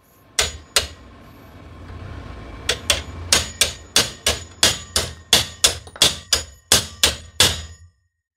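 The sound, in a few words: striking with HL Premier hammer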